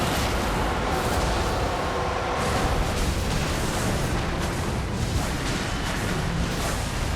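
Fire pots exploding in Elden Ring Nightreign, a continuous roaring blast of fiery noise that stays loud and dense throughout, with a few swelling surges and no talking.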